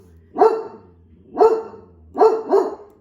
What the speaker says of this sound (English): my dog's having a fit